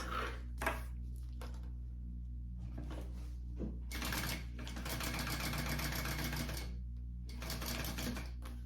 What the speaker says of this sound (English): I'm going to stitch down each side, top stitch down each side.